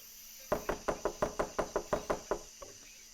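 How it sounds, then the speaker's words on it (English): Knocking on a door in the video game Norco: a quick run of about ten even raps, close and crisp, followed after a short pause by one faint final tap. "Just keep knocking, okay?"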